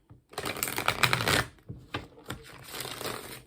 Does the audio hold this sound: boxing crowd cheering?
no